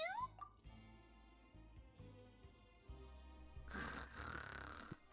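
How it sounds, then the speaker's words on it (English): Low, rumbling snores from a sleeping character in Genshin Impact, faint and drawn out, with a louder breathy rush toward the end. "does she snore that loud all the time?"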